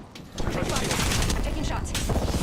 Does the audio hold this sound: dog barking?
no